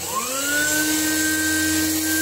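A small rotary burr whines at a steady high pitch as it cuts away engraved background on a Glock 26 steel barrel, a close, continuous tool drone with no speech.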